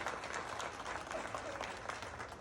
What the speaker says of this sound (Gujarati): સચોટ કામ કરી બતાવ્યું એવા સંજયભાઈ કોરડિયાને તાળીઓના ગણગણાટથી બતાવ્યું.